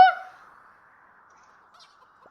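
A single loud squawking cluck from a chicken in the Roblox video game at the start, then a thin, faint trailing tone fading to near silence.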